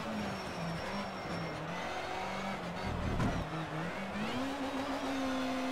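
Race car engine in Need for Speed: Shift 2 Unleashed during a final lap: a steady droning engine tone that holds, dips slightly, then climbs in pitch as it accelerates, with a short thump midway and no talk.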